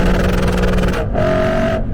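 A Lexus RC F V8 engine revs hard and close, a loud dense growl that shifts pitch as it climbs through gears over two seconds.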